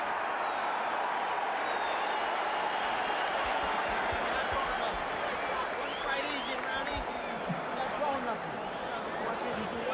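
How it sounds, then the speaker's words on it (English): Arena crowd at a Mike Tyson versus Larry Holmes boxing fight roaring between rounds, a constant loud murmur and cheer that fills the space while a commentator talks over it. "The crowd is really juiced up."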